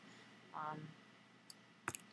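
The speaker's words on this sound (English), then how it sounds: "I'm going to actually duplicate this layer by right-clicking." A mouse right-click on a computer during Photoshop editing gives two brief, quiet clicks late in the clip, after a short hum-like sound, over a faint steady room hiss.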